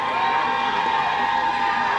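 A crowd cheers and whoops at an outdoor political speech at the Oregon State Capitol, a steady sustained roar held at moderate distance throughout.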